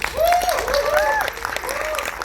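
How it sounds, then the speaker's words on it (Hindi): Steady applause from a crowd at a film trailer launch event fills the clip, with whoops and cheering voices rising above the clapping. "इनके लिए बहुत सारी तालियां होनी चाहिए."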